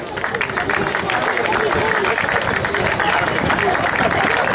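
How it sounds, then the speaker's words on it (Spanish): Crowd applause for a female runner at the finish of the Milla do Albariño mile race in Cambados, steady dense clapping throughout with crowd babble mixed in. "Vamos a dar fuerte aplauso para esta corredora."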